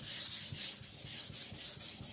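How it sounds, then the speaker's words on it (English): A Victorinox Chinese cleaver is rocked across a sharpening stone, giving a steady rhythmic rasping scrape of about eight strokes in two seconds, close and moderately loud with no voices. "And now I'm rocking and making, blending the edge into the face of the blade."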